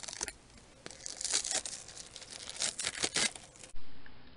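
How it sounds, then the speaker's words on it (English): Plastic wrapper being torn and crinkled off a pack of 2D miniatures, a few sharp ripping bursts and crackles close up, ending in a louder tearing pull. "So let's take the plastic wrapper off."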